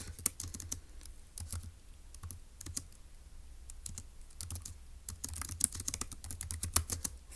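Typing on a computer keyboard, quick irregular bursts of close, crisp key clicks with short pauses, without talk.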